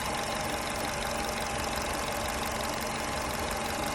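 A Skoda Rapid's 1.6 litre engine with about 250,000 km on it idles at a constant pace, giving a continuous mechanical hum with a fine ticking knock, close by and unbroken.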